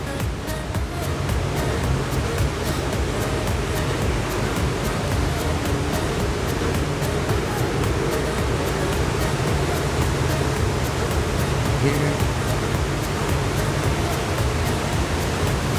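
Continuous rushing, churning water from the wake at the stern of the cruise ship Liberty of the Seas, a dense steady roar with faint machinery hum beneath, unbroken throughout.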